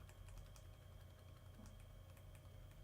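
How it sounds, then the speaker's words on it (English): Keys clatter in quick, steady typing on a Framework 13 laptop keyboard (AMD 7040), with a faulty page up key among them, close and faint over a low hum, no talk. "It's just the page up button sounds awful."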